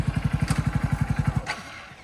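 A motorcycle engine idles close by with a fast, even putter of about a dozen firm pulses, then cuts off and trails into quiet background noise.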